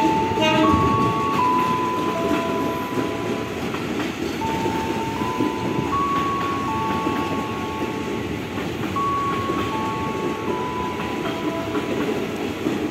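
A JR 205 series commuter train runs through Tambun station in Indonesia: a continuous rumble and wheel clatter with faint whining motor tones that shift pitch, loud and close for the whole stretch.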